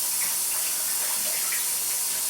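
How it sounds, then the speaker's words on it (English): Hands being washed under a running kitchen tap after kneading cinnamon roll dough, a steady hiss of flowing water close by throughout with no voices. "So I'm going to wash my hands."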